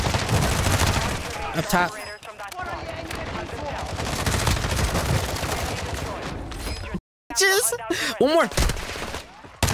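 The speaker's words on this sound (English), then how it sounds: "Taking effective fire." Rapid bursts of close-range submachine gun fire in the Warzone 2 video game, dense and loud, with shots repeating in clusters, a brief silent gap, then more gunfire while players talk over it.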